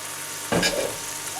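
Small pieces of meat fillet and onion sauté in a pan over medium heat: a steady sizzle with one sharp stirring scrape near the middle, close and alone.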